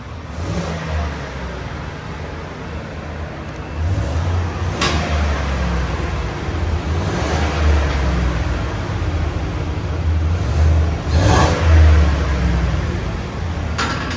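A 2017 GMC Yukon XL's 6.2L V8 with stock exhaust idles with a low rumble, then revs up in a few short bursts and settles back down, close and fairly loud.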